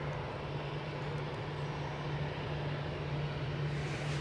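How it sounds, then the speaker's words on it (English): An EasyJet Airbus A320-200 passing by at Edinburgh airport, heading off to London Gatwick: a loud, steady broadband jet roar with a sustained low engine hum, constant throughout and heard alone. "It's A320-200 off to London Gatwick."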